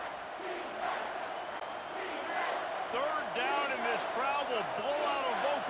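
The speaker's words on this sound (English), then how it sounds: "Third down, and this crowd will blow out a vocal cord" A college football stadium crowd in a video game roars on third down in a Gators versus Vols matchup, a broad loud roar swelling under rhythmic chanting and a commentator's voice.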